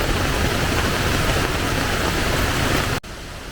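Heavy rain pours steadily on a riverside campsite at Sungai Pandan Waterfall in Pahang, a dense, loud broadband hiss with no voices, cut off abruptly near the end.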